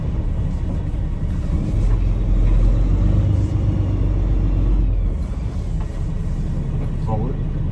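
A 2025 Peterbilt 567 day cab truck with a Paccar TX-12 automated transmission rolls along, its engine giving a steady loud low rumble from inside the cab, with a smooth shift midway and a voice talking over it.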